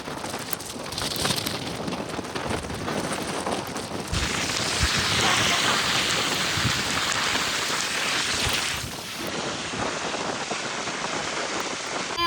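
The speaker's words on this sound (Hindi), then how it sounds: "ये देखिए कितना ज्यादा बारिश हो रहा है।" Heavy rain pours down steadily, a dense, loud hiss of drops drumming on surfaces, swelling louder midway through before easing back slightly, with faint bird calls underneath.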